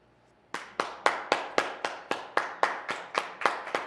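One person claps alone, about a dozen sharp, evenly spaced claps in a steady rhythm, close and clear with no other voices.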